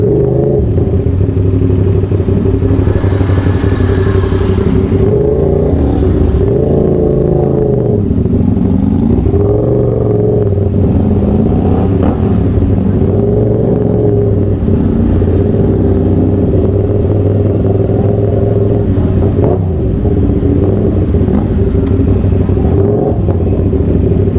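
A motorcycle engine runs steadily after a free checkup, its rumbling drone continuous and close, swelling and easing slightly with throttle changes while the ride goes on, with no talking.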